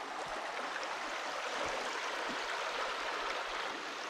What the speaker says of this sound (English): Nice wee river at the bottom.